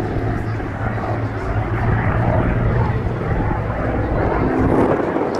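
A Mark V Spitfire flies a display at an airshow. Its piston engine gives a loud, continuous throaty drone that swells slightly toward the end, with no voices heard.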